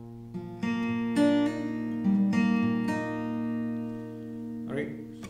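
A few guitar notes picked one at a time and left to ring, fading gently before another pluck near the end.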